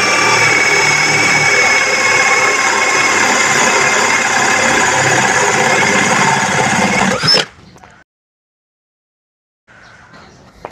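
A Kepu 16.8V brushless cordless drill in drill mode at speed 2, boring with a 1-inch (about 25 mm) spade bit, whines loudly and steadily for about seven seconds, then stops abruptly, leaving near silence and a faint trailing sound.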